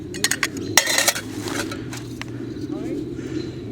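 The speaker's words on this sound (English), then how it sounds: "It's a Titan Titanium MSR kettle." A titanium MSR kettle is handled, making a quick cluster of light metallic clinks and rattles, followed by quieter rustling and handling noise.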